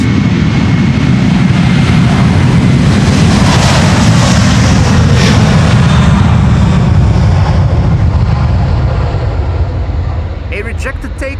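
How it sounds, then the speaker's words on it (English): Jet airliner engines roaring loud and steady on the Polderbaan runway at Amsterdam Schiphol during a rejected takeoff, broadband rumble holding for about nine seconds before easing slightly at the end. "A rejected takeoff."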